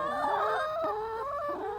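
Chickens in a sunny garden crow and cluck close by, a long wavering rooster-like call with overlapping squawks.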